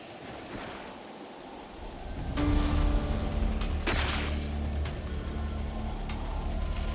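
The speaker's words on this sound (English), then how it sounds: "Rain." Rain in Xenoblade Chronicles 3, a soft hiss of falling drops that swells into a heavier, louder downpour with a low rumble, punctuated by a few sharp clicks.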